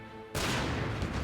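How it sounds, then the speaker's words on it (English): A loud explosion from the Final Fantasy XIV video game bursts in abruptly after a brief quieter musical stretch, then a dense, sustained roar fills the rest of the moment. "Explosion to send no flying at hyperspeed."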